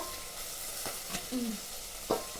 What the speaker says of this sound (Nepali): प्याज थोरै मात्रै छ अहिले म थप्छु प्याज